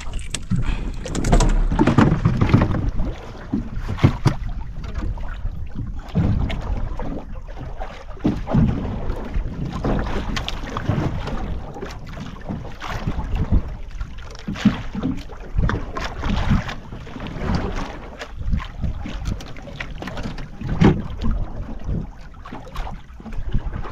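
Small fishing boat out on the water, engine rumble and water churning close and steady over about twenty-four seconds, with wind buffeting the microphone and no talking.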